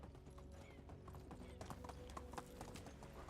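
Horse hooves clip-clopping at a steady walking pace while riding in the medieval village game Medieval Dynasty, set against soft ambient music and background noise, faint in level.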